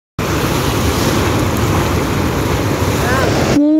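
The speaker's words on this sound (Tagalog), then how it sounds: "Oh guys, waves." Ocean waves on a beach give a loud, continuous wash of surf mixed with buffeting wind noise, ending in a brief voice.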